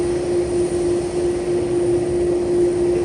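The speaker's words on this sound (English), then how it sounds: "On a MAX 9. Now on final for the south side at runway 10." A Boeing 737 MAX 9 airliner on final approach to runway 10 at San Juan airport, a loud, steady jet roar with a sustained tonal whine and no pauses.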